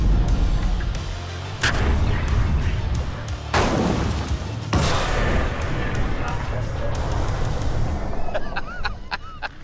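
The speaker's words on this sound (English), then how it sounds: "We got off two rounds." Two gunshots fired during a Hollywood stunt test recreating a scene from Lethal Weapon, sharp loud reports standing out over a noisy background with voices murmuring.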